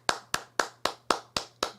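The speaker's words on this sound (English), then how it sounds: "Let's give him a round of applause." Single pair of hands clapping slowly and sharply at a boxing press conference, seven evenly spaced close claps in a steady rhythm, with a faint low hum underneath.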